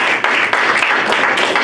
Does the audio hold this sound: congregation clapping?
yes